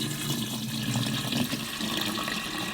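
Dirty water pours from a Hoover F5865 Steamvac Deluxe carpet washer tank, a steady splashing, gurgling stream running close and constant throughout.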